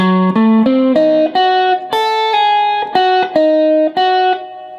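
Electric guitar plays a diminished blues lick, a quick run of distinct plucked notes climbing and then ringing out, loud and alone.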